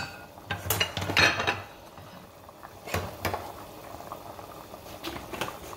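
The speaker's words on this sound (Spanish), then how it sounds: "Yo cocí también arroz, ahí tengo cociendo arroz" Rice simmering in a pot on a home stove while a Mexican beef stew is prepared, a soft bubbling boil mixed with clinks of pots and utensils, fairly close and moderate in level.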